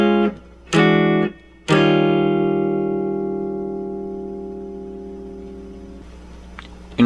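Swing guitar chords for a break, played as three sharp stabs followed by a long ringing chord that slowly decays, with a few soft taps at the end and no talking.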